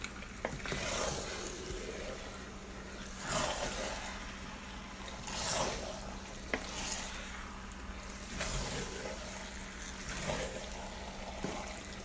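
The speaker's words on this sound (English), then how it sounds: "I'm just going to add my fish. Stir gently. Stir it in gently." Afang soup with fish just added, stirred gently in a pot, a soft simmering bubble with several slow sweeping stirs at a quiet level, no talk.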